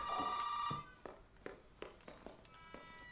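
A telephone rings in Resident Evil 7, with a sustained tonal ring opening the moment before it cuts off, followed by a series of soft, evenly spaced footstep-like knocks in a quiet room.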